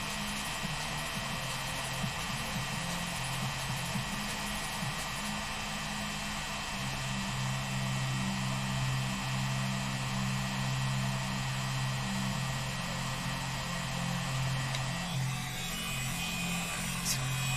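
A heat gun on its lowest setting gives a steady, low-powered blower hum with a broad airy hiss, running continuously much like a hair dryer, with a low tone shifting midway.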